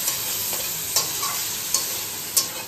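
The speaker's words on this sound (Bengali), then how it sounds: "দিয়ে এটাকে ভাজবো, ভালোভাবে ভেজে নেব।" Chicken pieces seasoned with salt and pepper fry in a pan, a dense continuous sizzle with a few sharper stirring scrapes, close and loud with no talking.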